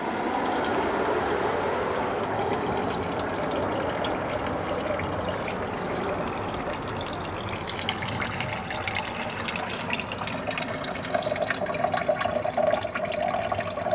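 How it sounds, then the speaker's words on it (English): A 2003 Kohler Wellworth Ingenium toilet with replacement tank parts flushes in a continuous rushing swirl of water, then shifts to a higher, hissing refill flow, close and with no talk. "Here is my another round Kohler Wellworth Ingenium flushing."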